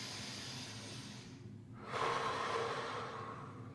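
A deep breath drawn in during a leg-strength workout routine: a long, close, airy inhale, followed by a brighter rush of breath around its midpoint, with no talking.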